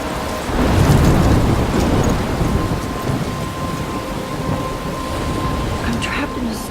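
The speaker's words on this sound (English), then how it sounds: "I'm trapped in a storm?" A heavy thunderstorm rolls over the coast near a lighthouse in the Life is Strange game, with loud dense rain and a deep thunder rumble swelling early before easing into a steady downpour.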